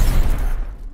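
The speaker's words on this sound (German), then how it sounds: "Blendgranate!" A flashbang grenade goes off in the shooter Call of Duty: Advanced Warfare, a single loud, close, muffled blast that fades out quickly.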